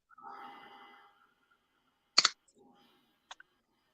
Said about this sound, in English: So I will use the snips.